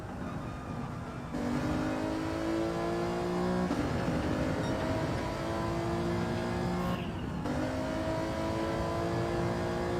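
Race car engine in Gran Turismo 7 revving steadily with rising and falling pitch through gear changes, loud and continuous, with a brief dip before the revs climb again.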